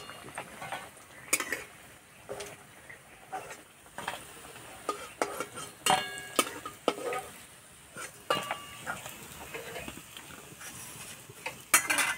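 Cabbage fritters (badhakopi bora) frying in hot oil in a pan, a soft continuous sizzle broken by frequent sharp scrapes and clinks of a spatula stirring and turning them, close and without speech.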